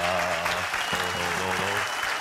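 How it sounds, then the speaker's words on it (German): Steady audience applause in a German science show, dense and continuous clapping throughout, with a faint hum of tones underneath. "Applaus!"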